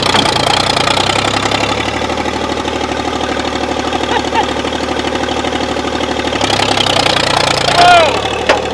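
An abandoned diesel tractor left sitting for ten years runs with a steady, knocking idle, loud and close, swelling briefly near the end while people talk over it.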